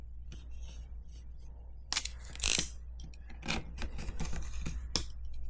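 Vinyl wrap is cut along the edge of a dishwasher panel, making close, quiet scratchy snips and scrapes in short irregular bursts, with a few sharper strokes near the middle and the end.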